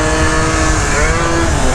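A rare scooter's engine revving hard on the throttle on a California ride, a loud, continuous buzzing drone held close to the microphone.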